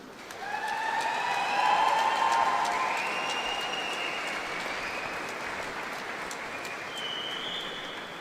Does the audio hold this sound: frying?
no